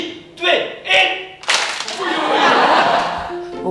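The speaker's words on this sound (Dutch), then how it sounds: "Als ik klap, dan klappen jullie ook." Audience clapping along with a teacher at a Teacher of the Year event in a school, starting with a few separate claps and swelling into sustained, dense applause over background chatter and laughter.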